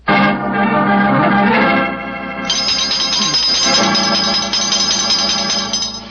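Doorbell ringing as an old-time 1946 radio drama effect, a sustained loud bell tone with a shift in pitch partway through, continuing to the end without talk.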